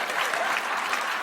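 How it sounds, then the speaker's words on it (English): A theatre audience claps in a dense, continuous burst of applause that sounds close and full and carries no voices. "a huge round of applause for Maria and Anthony"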